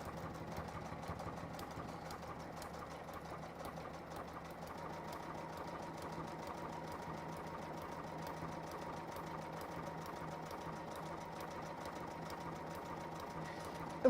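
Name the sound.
sewing machine sewing a triple stitch backwards and forwards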